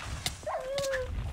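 A dog whimpers in the Minecraft modpack RLCraft: a single rising-and-falling whine lasting under a second, mid-loud over quiet game ambience, with no talking.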